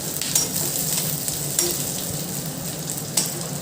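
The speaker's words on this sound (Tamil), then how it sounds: "தேவையான அளவு சின்ன வெங்காயத்தை நல்லா வதக்கிக்கோங்க" Small onions sautéing in sesame oil in a pan, a continuous close sizzle with a few sharper spatula scrapes at intervals, heard alone.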